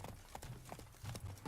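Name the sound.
horse galloping in video game The Witcher 3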